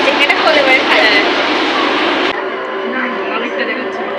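A metro train rumbles loudly and steadily close by, then drops to a lower, quieter hum partway through, with people talking over the noise.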